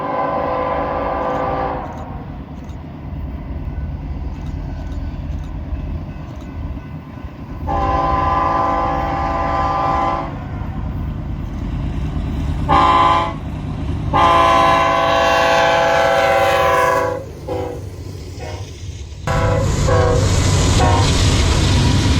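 Westbound freight train passing close by, a loud continuous rumble of rolling wagons with repeated long blasts of the locomotive horn.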